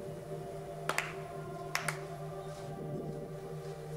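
Two quick pairs of hand claps ring out during prayer at the main hall of Toke Shrine in Tanabe, Wakayama, Japan, crisp but fairly soft over a quiet, humming background.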